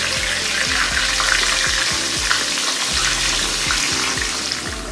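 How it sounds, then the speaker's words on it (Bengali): Onion-garlic paste hits a hot pan and fries with a loud, dense hiss and bubbling, somewhat watery sizzle that holds steady over the whole stretch, close up and without speech. "এবারে আমি দিয়ে দিচ্ছি পেঁয়াজ রসুন পেস্ট"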